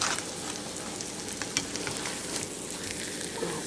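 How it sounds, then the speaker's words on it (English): An egg fries in a pan for a bacon, egg and cheese breakfast sandwich, a close, steady crackling sizzle with small pops throughout and no talking. "I don't let the other side cook too long. I don't want to overcook the yolk."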